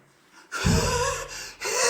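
A voice imitates a baby's strange, labored breathing, producing a sudden harsh gasping inhale followed by a strained, snorting rasp. The sound is close and fairly loud and stops briefly before catching again.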